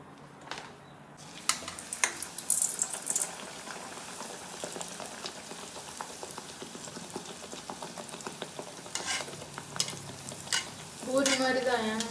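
Adhirasam sweet dough fries in hot oil with a steady bubbling sizzle, broken by stirring clinks and a short louder burst of crackle near the end. No one talks.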